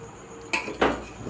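Ingredients for a dalia recipe being mixed with turmeric, giving two or three close metallic clinks and scrapes of a utensil against a pot, short and fairly loud over a quiet room.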